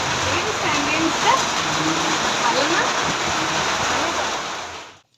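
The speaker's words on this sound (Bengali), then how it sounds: "আমরা মেট্রো থেকে বেরোতে না বেরোতেই অঝরে বৃষ্টি শুরু হয়ে গেছে" Heavy rain pours outdoors just outside a metro station, a dense steady hiss close by that runs for about five seconds before cutting off, with brief speech over it.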